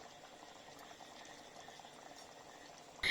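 Chhattisgarhi village chicken curry simmers in a pot with continuous soft bubbling and gentle popping at a steady level, then a brief louder clatter at the very end.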